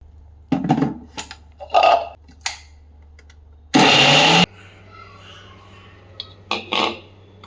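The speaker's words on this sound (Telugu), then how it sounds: "కొద్దిగా జీరా అలాగే కొద్దిగా కొత్తిమీర కూడా యాడ్ చేస్తున్నాను కొద్దిని గ్రైండ్ చేసుకుందాం" Mixer grinder whirring briefly on a small batch of cumin and coriander with salt, one loud short burst of roughly a second amid quiet kitchen clatter and soft handling noises.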